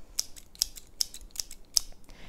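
Scissors snipping five times at a steady pace, roughly every 0.4 seconds, each cut crisp, close and distinct against a quiet background with no voices.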